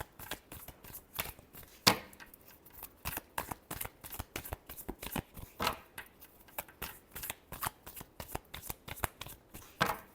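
Tarot cards being shuffled by hand, a rapid series of crisp riffling snaps and flutters in uneven bursts, close and fairly quiet, continuing for about ten seconds with no talking.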